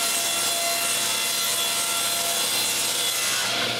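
A saw runs steadily through a long piece of plywood, ripping it to width in a continuous loud, rasping cut that tails off right at the end.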